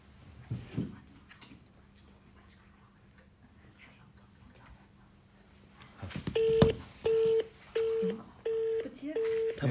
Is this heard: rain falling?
no